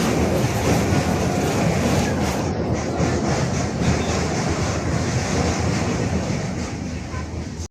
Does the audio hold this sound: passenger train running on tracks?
yes